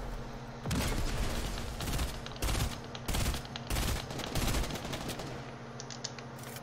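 Enemy gunfire in a video game comes as several rapid automatic bursts, fairly faint with short pauses between them.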